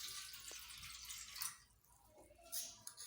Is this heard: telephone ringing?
no